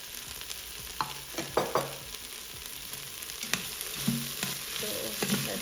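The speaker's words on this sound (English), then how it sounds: "So let's give it a mixture." A coarse coconut, garlic and fennel seed mixture fries and sizzles in a pan for pulao, with steady crackling hiss and a few sharp stirring scrapes and clinks close by.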